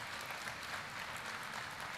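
Parents at a university orientation applaud, a steady wash of clapping from a seated crowd, fairly soft and distant, with no talk over it.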